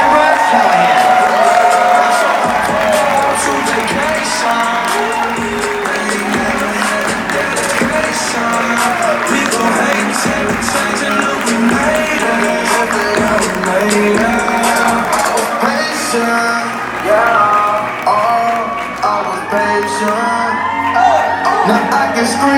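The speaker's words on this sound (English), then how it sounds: "get out of her seats and give a huge round of applause to newly promoted team coordinator" A crowd cheers, whoops and shouts for newly promoted team coordinator Ms. Amber Callahan, a loud, dense and sustained swell of voices filling the room, with music-like tones running beneath it.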